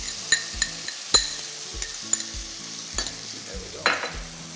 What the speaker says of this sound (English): And you hear that nice sizzle?